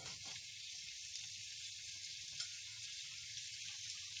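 Two large chopped onions sizzle in hot oil in a pan, a soft, steady hiss that stays faint and even throughout, with no one speaking.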